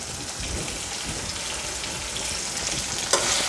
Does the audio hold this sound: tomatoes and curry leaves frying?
yes